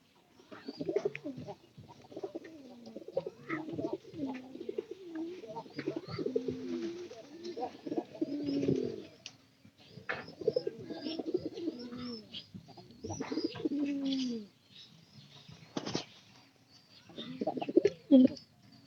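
Pigeons coo repeatedly in soft, rolling phrases that rise and fall, fairly close and moderately quiet. Irregular pauses separate the calls, with a few sharp clicks or flaps in between.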